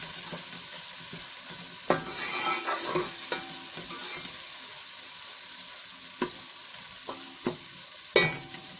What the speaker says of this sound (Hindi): हल्दी को थोड़ी देर हम भून लेंगे, आंच हल्की करके